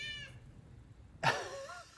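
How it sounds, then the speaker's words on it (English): A house cat gives a single clear meow, fairly close, after a faint higher mew at the start, over quiet room background; no speech. "My cat Enzo decided to steal the sponge"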